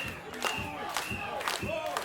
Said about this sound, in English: And the people go crazy